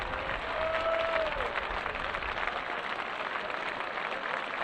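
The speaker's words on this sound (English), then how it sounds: "a very warm round of applause from those who have come out to watch here at Preston Grasshoppers" Spectators at an England versus Scotland under-18 rugby match at Preston Grasshoppers give steady, even applause, a constant wash of clapping from the crowd with no pauses.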